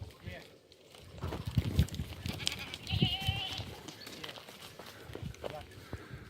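Goats in the Turkish countryside along the Lycian Way bleat a few times at moderate distance, with rustling movement and footsteps around them and people talking faintly over the scene.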